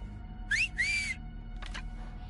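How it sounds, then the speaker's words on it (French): A character in the PS4 free-to-play game Vigor performs a whistling emote: two quick rising-and-falling whistle notes, followed by a short burst of noise, over a low steady in-game background hum. "J'ai débloqué siffler normalement."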